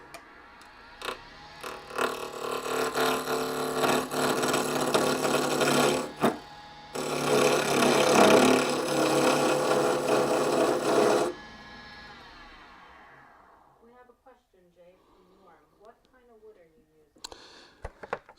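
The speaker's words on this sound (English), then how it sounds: "Need to put a tenon on this." A tenon is cut on a piece of scrap maple wood with a harsh, rasping scrape in two long, loud bursts with a brief break between them, then quieter sounds and talking follow.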